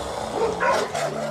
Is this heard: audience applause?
no